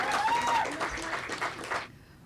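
Applause rises from the audience at a poetry evening as a poet takes the stage, a full crowd clapping with a tonal ringing over it before cutting off abruptly near the end.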